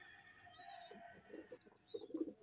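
A racing pigeon coos in soft, low, rolling phrases, quiet and close, repeating several times, with faint chirps from other birds in a loft in the background.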